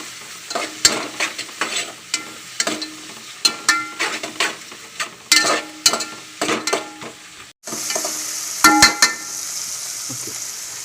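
Whole spices such as cinnamon, cardamom and clove are being stirred in a hot pan for vegetable biryani: a sizzling fry with repeated scraping strokes of a spoon, loud and close, the sizzle rising steadily near the end.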